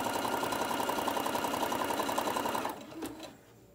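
A sewing machine set to a 2.5 stitch length runs a straight stitch in a steady, fast mechanical whir for nearly three seconds, then stops with a brief click and quiet.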